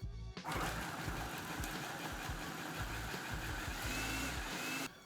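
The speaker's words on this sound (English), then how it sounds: "cover this and again, blitz this up until it's a smooth paste" A food processor blitzes aromatics into a smooth paste, a steady loud motor whir with a grinding, churning texture that runs continuously and cuts off at the end.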